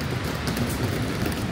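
Rain falls steadily in a city street in Morioka, Iwate on a cold day, a soft, dense hiss with faint patters close by and no voices.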